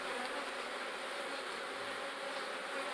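A honeybee swarm buzzes in a continuous, dense drone of many insects, fairly faint and even, with no voices.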